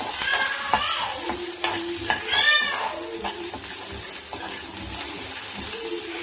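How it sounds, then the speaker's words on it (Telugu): Green chilies sizzle and crackle loudly in a hot pan while being stirred, a constant hiss with scraping stir sounds and no talking. "సో మిర్చి చూసారా ఇట్లా కొంచెం ఫ్రై అవ్వాలి"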